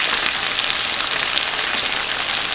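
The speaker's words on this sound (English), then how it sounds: "And here's the shrimp going in." Shrimp frying in teriyaki sauce in a hot pan, a loud, dense, steady sizzle with crackling spatter and no talk.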